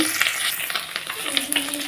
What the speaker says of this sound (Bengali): এই দেখো মাছগুলো উল্টে পাল্টে লাল করে ভেজে নিচ্ছি